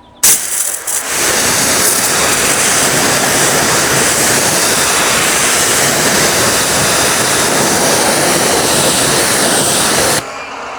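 Strong water spray rinsing a dirty car tire and wheel, a steady loud hiss that starts abruptly and runs for about ten seconds before cutting off, close to the spray, no talking.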